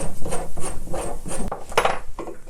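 A 1/4-inch drill bit in a Harbor Freight drill press grinds into wood with a rhythmic, rasping sound that swells and fades in repeated pulses, close up.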